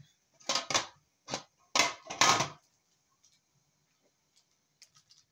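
A few light clinks and taps of a pot lid going onto a pot of steaming eggs, close and clear in an otherwise quiet kitchen, followed by faint small ticks.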